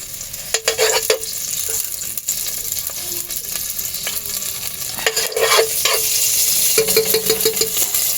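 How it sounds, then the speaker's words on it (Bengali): Garam masala and bay leaves crackle in hot oil with ghee, a bright close sizzle under repeated scraping and tapping of a spoon against the pan. "এখানে তেল গরম হয়ে গেছে এতে গরম মশলা আর তেজপাতা ফোড়ন দিয়েছি"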